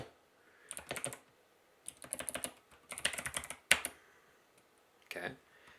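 Someone types a Docker exec command on a computer keyboard in several quick bursts of close, crisp key clicks, with short pauses between runs and a final few taps.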